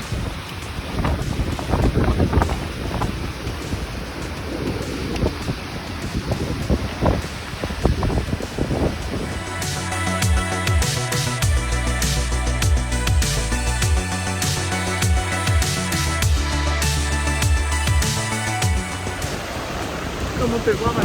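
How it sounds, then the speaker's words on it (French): Steady wind rushing across the microphone aboard a sailboat heading toward Les Saintes in Guadeloupe, a broad constant roar that swells louder in the second half, with a faint voice early on. "le vent n'est pas constant. Ce sont des couloirs de vent."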